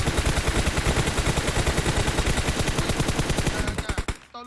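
Rapid, loud automatic gunfire in PUBG Mobile rattles off in a steady stream of close shots for about four seconds before cutting off abruptly, with no talking over it.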